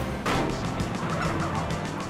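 Turkey-like fowl gobbling and crowing in a GTA San Andreas radio ad for chicken, a dense, loud burst of bird calls that plays steadily with no talk over it.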